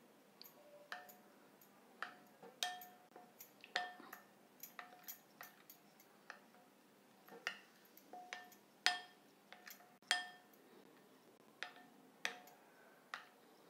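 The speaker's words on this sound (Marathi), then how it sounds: "अशा प्रकारे गुठळी न राहता हे चांगलं फेटून घ्यायचं आहे आपल्याला" A whisk beating a mixture smooth in a bowl, with no lumps left, while making an egg bread breakfast: a quiet, irregular string of light clinks and ticks against the bowl, close but faint, with no one talking.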